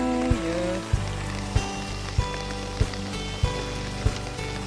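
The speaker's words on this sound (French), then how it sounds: "Il pleut, il mouille, c'est la fête à la grenouille." Rain falls steadily, a constant hiss and patter close by, with regular rhythmic thumps recurring about every half second underneath.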